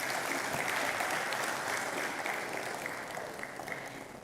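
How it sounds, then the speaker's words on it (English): A graduation audience at Lagos Business School applauds graduating executives, steady broad clapping from a large hall that holds even for about four seconds, moderately loud and slightly distant. "Please, a round of applause for them and the graduating executives."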